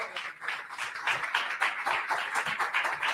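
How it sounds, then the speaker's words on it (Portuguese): A church congregation at a family service claps steadily, a fairly dense, moderate round of applause that holds evenly. "Dê um aplauso a Jesus."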